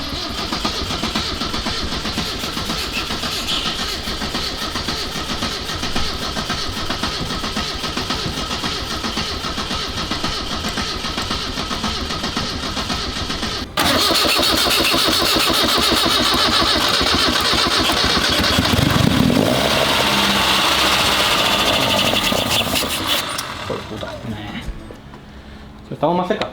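An Alfa Romeo GTV 1750, laid up for years, cranks and catches, then settles into a loud, steady mid-pitched run close by that fades out near the end, with someone talking over it.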